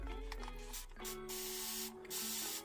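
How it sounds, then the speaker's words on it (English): Repeated hissing bursts from a spray bottle misting cork bark and moss close by, several sprays in quick succession with brief gaps between them. "All I do is spray on the cork bark and the moss."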